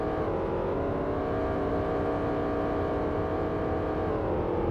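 Race car engines roar in a NASCAR 2000 video game race on the Nintendo 64, a loud, continuous layered drone of several cars running at high revs with no speech.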